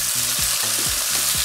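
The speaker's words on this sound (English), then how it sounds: "Now that is the sizzle that you want to hear when you are cooking." Onions sizzling in a hot frying pan, a close, steady crackling hiss with soft scraping from stirring across the pan.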